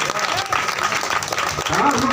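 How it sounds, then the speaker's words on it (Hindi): Loud applause fills a business training and celebration program, with dense clapping mixed with voices talking over it throughout. "एक बार इनके लिए जोरदार सम्मान में तालियां होनी चाहिए"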